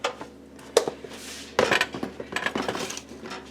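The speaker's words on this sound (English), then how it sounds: "We put our lid on. I'm going to cover this crock pot." A lid set onto a slow cooker crock pot in a home kitchen, heard as a few close ceramic and metal clinks and knocks with short clattering taps between them.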